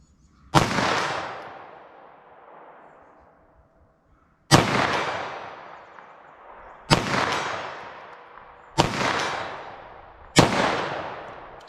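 Five sharp .380 ACP pistol shots firing Underwood Xtreme Defender +P ammunition at an outdoor target, each a loud crack with a trailing echo, spaced irregularly a few seconds apart with no talking.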